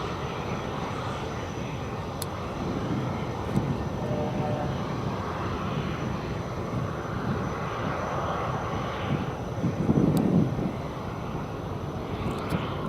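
An MD-11 jet at DFW Airport, a loud continuous engine roar and rumble heard from a distance, swelling slightly near the end.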